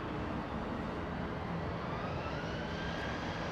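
A Delta jet airliner takes off from runway 24 left at LAX, its engines producing a loud, steady, unbroken roar that holds at the same intensity throughout.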